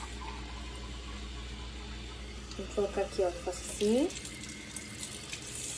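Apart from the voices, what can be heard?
water being poured into an American coffee maker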